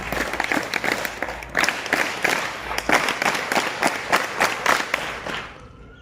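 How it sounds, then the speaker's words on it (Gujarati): A school audience claps at a Gita knowledge distribution event with an ISKCON mahant present, several bursts of sharp hand claps close together that swell and fade over six seconds and thin out at the end. "આપણે હંમેશા 7 તાળીઓથી બતાવશું."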